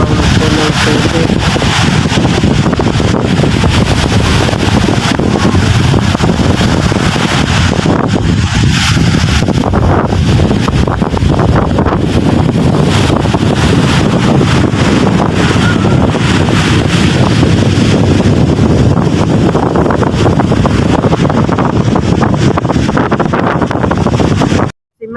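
Strong wind roars steadily across the microphone beside a brown, muddy river, a loud continuous buffeting rush with faint water and boat sounds underneath, lasting throughout.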